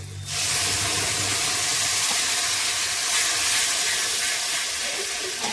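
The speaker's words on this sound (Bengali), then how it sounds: "আমার আদা ভাজা হয়ে গেছে, এখন টমেটোর পেস্টটা দিয়ে দিচ্ছি।" Tomato paste lands on frying ginger in a hot pan, bursting after a brief low hum into a loud, sustained hissing sizzle that carries on steadily.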